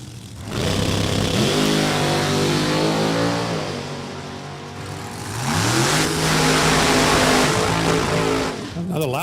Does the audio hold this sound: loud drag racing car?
yes